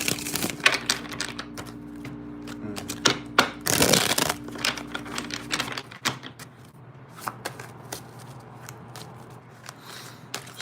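Rapid riffling clicks of a deck of cards being shuffled, several bursts in a row, close and fairly loud, with a dense flurry near the middle.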